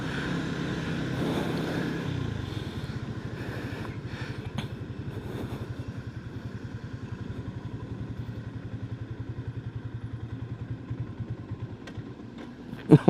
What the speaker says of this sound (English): Yes, I managed to start the bike.